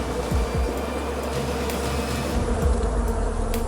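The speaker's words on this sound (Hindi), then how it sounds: "काली चींटियों के घर के करीब शहद की मक्खियों ने अपना छत्ता बनाना शुरू किया।" Honey bees buzz steadily around their hive, a continuous close drone with individual bees zipping past now and then.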